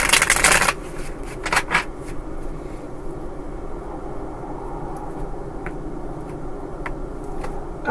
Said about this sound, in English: Two quick shuffles.